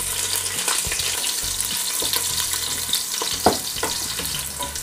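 Curry leaves, two green chilies and garlic frying in hot oil infused with fennel seeds and methi for a Madras-style crab curry, a close crackling sizzle with occasional stirring knocks and no talk.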